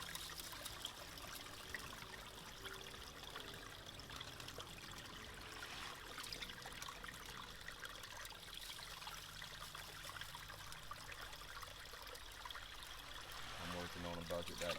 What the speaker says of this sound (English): somehow you increase the water flow